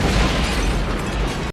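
Second explosion of an auto shop in the 1989 film Road House, a loud sustained blast and rumble that cuts off abruptly at the end, no voices.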